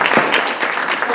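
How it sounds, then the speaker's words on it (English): An audience claps in a university auditorium during a student town hall: dense, steady applause fills the short moment at full loudness, with no speech over it. "So can we do a round of applause?"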